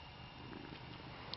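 A cat purring close by, a soft steady low rumble that runs continuously without a break, faint under background hiss, with no voices.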